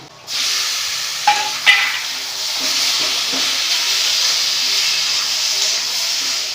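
Chopped tomato hits a pan of frying turmeric, coriander and cumin powders, setting off a sudden loud, steady sizzling hiss with a couple of brief spoon knocks early on.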